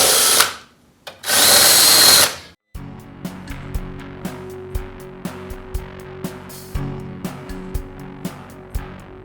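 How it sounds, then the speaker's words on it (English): Power tool deburring the edges of new metal floor pans on a 1970 Dodge Challenger, two loud whining bursts followed by quieter running with a series of sharp regular clicks and knocks. "So we're going to go around and deburr these"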